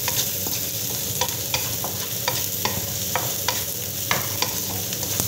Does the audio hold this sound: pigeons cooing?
no